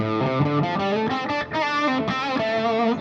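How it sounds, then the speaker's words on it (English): Electric guitar playing shimmering chords with a wide, swirling chorus and lingering reverb tail, bright and sustained, no voices. "this is the compressor, chorus, and reverb engaged on this preset"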